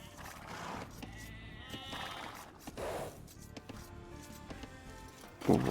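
Sheep bleating in the strategy game Age of Empires II, a few short wavering bleats set against soft game ambience and clicks, with a louder sound effect at the end.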